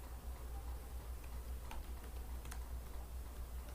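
Fingers type a query on a computer keyboard, a faint run of soft, quick key taps over a steady low hum, with no one speaking.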